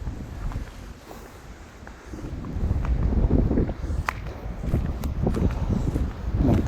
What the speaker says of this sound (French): Il y a simplement du vent, comme vous pouvez entendre.